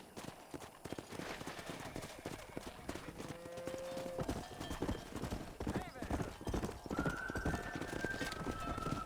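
Horse hooves clip-clop steadily over a busy background in the video game Red Dead Redemption, with a horse neighing partway through and people talking intermittently.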